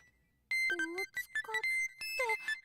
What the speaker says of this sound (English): I squeeze out my courage and pick up the phone that's been ringing.